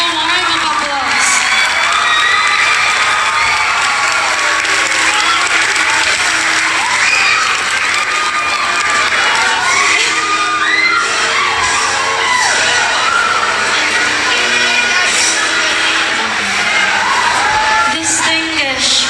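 A graduation crowd gives a graduate with highest honors warm applause mixed with cheering, shouts and whoops, loud and sustained throughout.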